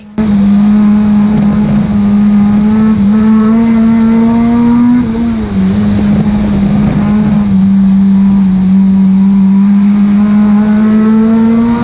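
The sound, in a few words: stock car racing around Cowdenbeath Racewall track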